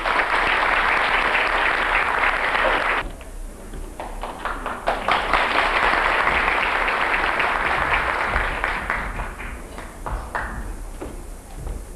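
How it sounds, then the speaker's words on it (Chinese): Audience applause welcomes the leader of a bird-named choir onto the stage at its 16th-anniversary Mother's Day concert. Dense, loud clapping for about three seconds drops to softer, scattered claps with some rustling and thuds, then swells again before trailing off. "我们热烈掌声欢迎王团长。"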